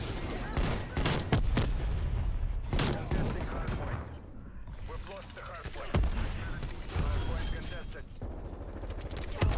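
Hand cannon gunfire in Call of Duty Cold War, several loud sharp shots in quick bursts with a quieter gap in the middle, then more shots toward the end.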